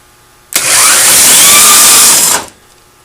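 A 1/24 scale slot car Firebird on a home drag strip: a single sharp whining electric-motor burst of about two seconds, loud and close, starting abruptly and cutting off, with no talk.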